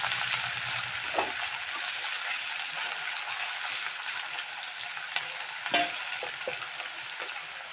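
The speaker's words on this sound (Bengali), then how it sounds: "এখন পেঁয়াজগুলো লাল করে ভাজা করে নেব হালকা।" Chopped onions with green chillies fry in hot oil in a pan, giving off a continuous close sizzle broken by a few sharp scraping clicks of stirring.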